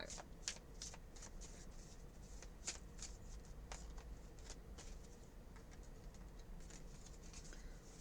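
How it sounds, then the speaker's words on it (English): Rapid riffling of a tarot deck being shuffled, a steady crisp fluttering pattern that runs throughout, close up. "We're going to shuffle the deck."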